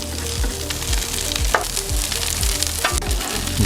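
Frozen steak frying in avocado oil gives a loud, steady sizzle and spatter that runs continuously, with a few sharper pops and scraping stirs rising above the hiss.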